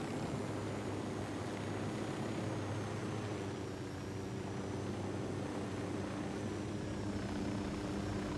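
Helicopter flying in the video game Ghost Recon Wildlands, a steady, droning rotor and engine roar that holds at an even level throughout, moderately loud with no talk over it.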